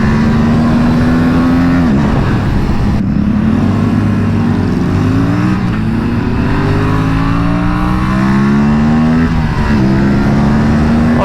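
An Aprilia RS 457 motorcycle engine while riding, loud and close, with a continuous drone whose pitch rises through the gears and drops at each shift, over rushing wind.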